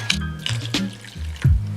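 Water pours into a pot for half a cup of oats in brief splashing bursts, close and fairly loud, with no talking.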